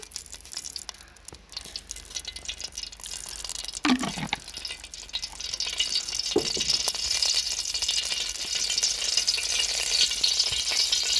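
Crushed dry beef crackles and sizzles in hot oil in a pan, a steady hiss that grows denser over time, with a couple of brief stirring scrapes early on.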